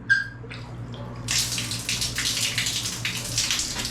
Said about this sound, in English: The water, this is the tap.